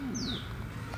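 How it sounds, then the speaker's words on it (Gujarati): A pigeon rescued from kite string tangled on a residential window in Vadodara gives a single brief, soft coo against a faint background hum. "બારી પર દોરાની અંદર કબૂતર ફસાયેલો હતો"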